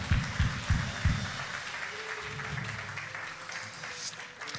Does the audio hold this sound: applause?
yes